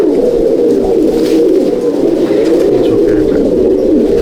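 Close, loud cooing from Andhra and Madrasi pigeons in a loft, a steady low warbling drone that barely pauses over several seconds.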